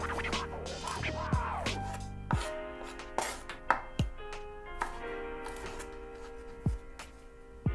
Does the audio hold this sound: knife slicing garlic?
yes